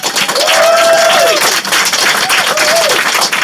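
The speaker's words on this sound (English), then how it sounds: "a big round of applause for Janet Weiss" Live audience at a Portland podcast taping breaks into loud, sustained applause and cheering for drummer Janet Weiss, dense clapping throughout, with a voice calling out over the crowd.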